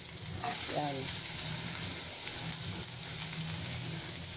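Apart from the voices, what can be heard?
onion and garlic sautéing in a wok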